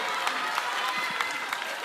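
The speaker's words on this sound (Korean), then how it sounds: "박수." Brief burst of audience clapping at an evening church service during a Bible school gathering, a steady patter with a few sharper claps standing out.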